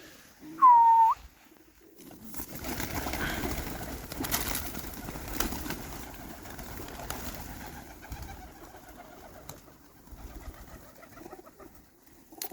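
Pigeons in a pigeon loft, with a single clear coo or whistle near the start followed by steady, fairly faint loft noise of shuffling birds and soft calls.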